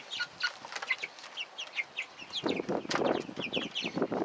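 Cornish Cross chicks in a coop built from pallets keep up a busy chorus of high peeping chirps, and a denser burst of clucking and scuffling comes in partway through.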